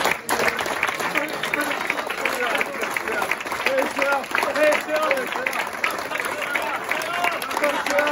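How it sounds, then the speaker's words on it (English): Football supporters in a stadium section applaud after a match, a sustained wash of clapping and crowd noise with voices talking and calling over it throughout. "give the guys a round of applause on the section"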